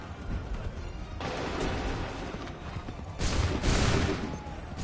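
Soldiers fire musket volleys in the game Assassin's Creed 3. Two rolling, crackling fusillades come close together, the second louder and more sustained, with no other sounds over them.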